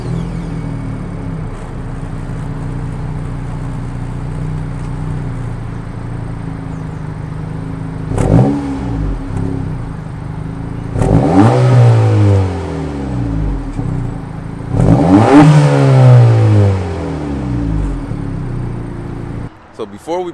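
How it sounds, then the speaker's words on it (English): An Acura Integra revs through its dual exhaust: a steady idle broken by three sharp revs, each climbing and falling away, the last two louder and longer, then an abrupt cutoff. "let's give it a rev real quick"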